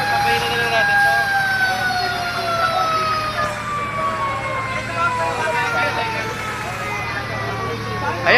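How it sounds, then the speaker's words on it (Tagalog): Several fire truck sirens wail as engines arrive at a fire involving burning electrical wires, their overlapping tones sweeping and gradually falling in pitch as they pass, loud and sustained over a low traffic rumble. "marami pang dumarating na bumbero"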